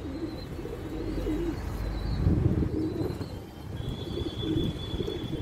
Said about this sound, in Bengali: এই দানা পায়রা, ছোট্ট পায়রা,